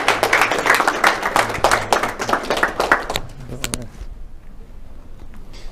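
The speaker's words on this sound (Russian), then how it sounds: "Аплодисменты Константину Валерьевичу." A crowd claps in a dense burst of applause for about three seconds, then it thins to a few scattered claps and fades out.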